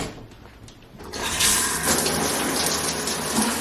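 Shower water runs steadily in a home bathroom, starting quieter and swelling into a loud, continuous hiss of spray after about a second, with no voices.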